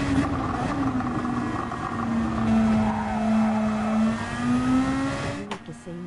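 A Nissan Nismo race car in Gran Turismo 7 drones steadily at high revs through a daily online race, engine pitch sliding slowly with some tire noise, as someone talks over it.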